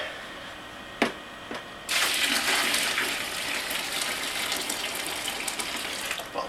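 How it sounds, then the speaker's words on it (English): Water gushes steadily into a mash tun during home brewing, a loud continuous rushing pour that starts after a couple of light knocks and keeps running to the end. "I'm going to add some more water"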